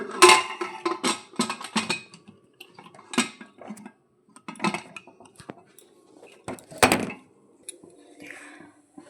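Clattering metal knocks and clicks from a pressure cooker lid being set and closed over dal in a home kitchen, several sharp taps and scrapes scattered across the moment, close and fairly quiet with gaps between.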